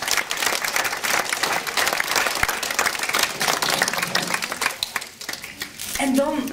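A lunch crowd at a Chinese seniors' luncheon in Amstelveen gives an honoured guest a sustained round of dense applause, with voices mixing in and the clapping thinning toward the end.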